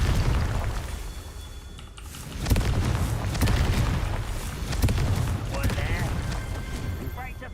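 Confringo fire spell blasts in the Hogwarts Legacy game, several booming explosions bursting over a dense rumbling battle bed, with someone talking over the action.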